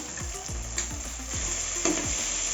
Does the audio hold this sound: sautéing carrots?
yes